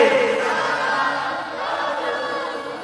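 A large crowd shouts the takbir chant Allahu Akbar in unison at a religious gathering, a loud, sustained roar of many voices that fades slightly toward the end.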